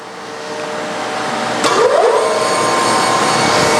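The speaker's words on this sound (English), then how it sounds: "first I'm going to start the blade drive motor" A bandsaw's blade drive motor starts up for cutting thermoformed signs: a sharp click, a brief rising whine, then a steady loud hum that settles in.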